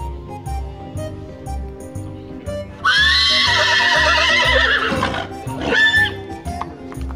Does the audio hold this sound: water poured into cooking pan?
no